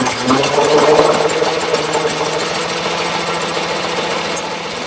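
A Fiat 126 engine runs after carburetor work, holding a steady, slightly rough mid-pitched idle with an even mechanical chatter that stays at a constant level throughout.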